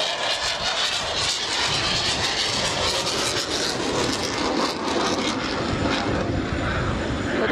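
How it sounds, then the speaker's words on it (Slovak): An airplane makes a low pass with its landing gear down at an air show, a loud, sustained engine roar that sweeps broadly and stays dense throughout, with no voices over it. "To nebude, to bude nízky prelet. Len nízky prelet, s otvoreným podvozkom."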